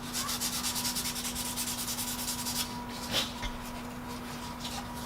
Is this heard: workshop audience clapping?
no